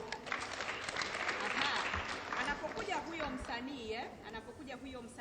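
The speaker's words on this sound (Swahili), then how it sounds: "Tumpigie makofi" Audience applause, a steady burst of clapping from a crowd lasting several seconds, with voices and some music mixed in underneath.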